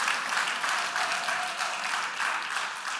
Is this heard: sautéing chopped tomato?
no